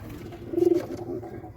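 A caged Mumbai pigeon coos softly nearby, a short throaty burble followed by a fainter second coo.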